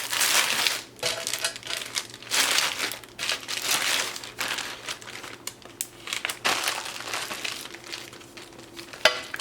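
A plastic bag of crochet supplies, including safety eyes, crinkles and rustles close up in repeated bursts of handling across the whole stretch.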